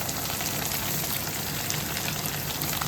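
Chopped brinjal frying in hot oil with onions for vangibath, a steady close sizzle and crackle that continues without pause and with no talking.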